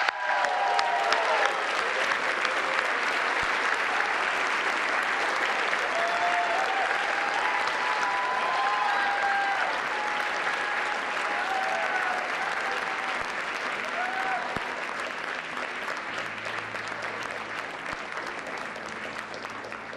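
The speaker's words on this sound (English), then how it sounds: "let's give him a big round of applause, Josh Dawsey of the Wall Street Journal." Sustained, loud audience applause fills a large banquet hall at the White House Correspondents' Dinner, a dense steady wash of many hands that tapers slightly toward the end, with faint voices mixed in.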